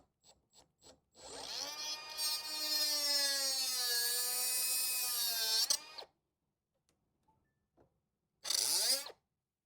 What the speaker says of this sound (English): instead of cutting them, I'm going to go ahead and just grind them off.